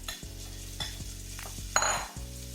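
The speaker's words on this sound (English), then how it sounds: "I'm putting my chopped onion in there." Chopped onion sizzling in a pan for creamy shrimp pasta, with a spoon stirring and knocking several times over a low, close hiss and a steady background hum.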